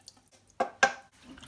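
Water from rinsing a mixer jar poured into a pot of masala for mutton kizhi biryani, two short quiet splashes in quick succession, then near silence.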